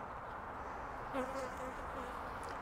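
Honeybees buzzing steadily and close during hive splitting, as the bees are shaken below a queen excluder; a continuous dense drone with a brief louder swell of individual wingbeats near the middle.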